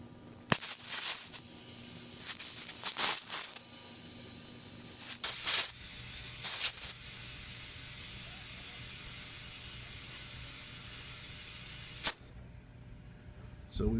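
Several short hissing bursts of compressed air inflating a plugged flat tire, each lasting about a second, then a long steady low hiss ending in a sharp pop near the end.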